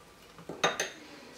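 A spoon clinks and scrapes against a bowl of tahini sauce a few times in quick succession, close and fairly quiet, with no talking.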